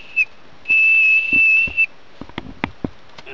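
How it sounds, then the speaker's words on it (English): A homemade pea whistle bent from aluminum can, a short chirp then a sustained shrill tone lasting about a second, followed by scattered small taps and knocks, close and fairly loud with no talking. "But you guys heard that whistle, didn't you?"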